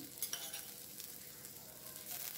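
Onions, garlic, green chili and ginger roast in a pan for chana masala, giving a faint, steady sizzle and crackle throughout with no voices.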